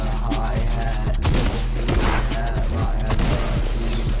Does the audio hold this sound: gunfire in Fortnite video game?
yes